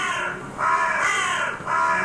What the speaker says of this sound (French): Encore ce corbeau!